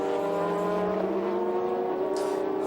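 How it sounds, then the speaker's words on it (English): Lexus SC430 GT500 race car with a 500-horsepower Toyota V8 at a Super GT race, a loud sustained engine drone with strong harmonic whine holding steady and rising slightly, passing close by. "500 horsepower pushing out from the Toyota V8 underneath the Lexus SC430 hood"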